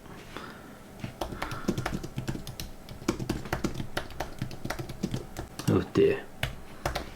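Fast, uneven typing on a computer keyboard while editing in Final Cut Pro X, a steady patter of close key taps with a brief spoken exclamation near the end.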